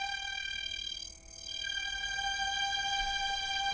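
Held string chord processed through Ableton's Cleanup effect, steady and even with a brief dip in level partway, bright stacked tones sustained to the end, no voices.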